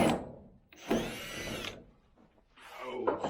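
A power drill backs screws out of a deer feeder's roof in two close whirring bursts separated by a short pause, with a brief voice at the start.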